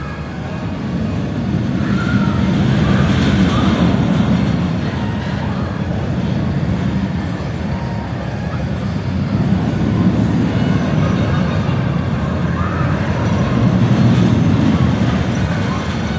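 A steady, loud mechanical rumble with rattling and rolling noise of a roller coaster train running along its track close by at Six Flags America, no voices.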